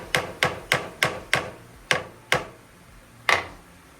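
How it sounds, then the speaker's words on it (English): A hammer taps a putter head clamped in a milling setup, eight sharp metallic strikes spaced unevenly, close and fairly loud with no voices. "we're going to give it a little bit of a tap with the hammer."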